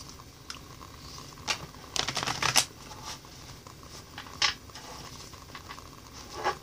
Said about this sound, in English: I'm using my softer cards today so that I can actually shuffle a little bit better